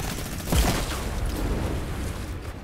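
Video-game gunfire with RPG shots sounds as a dense rattling fusillade, with a heavier boom near the start and a sustained noisy wash after it.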